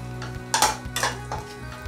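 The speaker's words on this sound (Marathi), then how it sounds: "हे आपल्याला तुपात मस्त असे फ्राय करून घ्यायचे आहेत" Chopped dates frying in ghee for laddoos, a close sizzle with a few scraping stirs of a spoon against the pan over a low steady hum.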